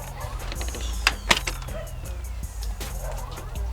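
A vehicle siren sweeps in a long falling and rising wail, with sharp clicks and thumps as switches and a door are worked nearby, fairly loud and close.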